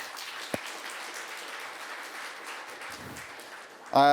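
Audience applause for speakers at a space resources conference, a steady broadband clapping wash lasting several seconds, moderately loud, with a sharp knock early and a voice cutting in at the very end.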